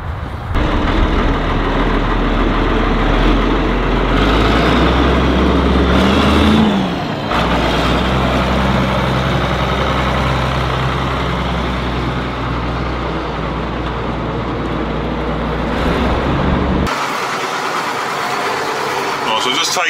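Ford TW25 tractor engine running steadily as the tractor is driven, a loud continuous low rumble throughout with a brief shift in tone midway, heard close up with no talking.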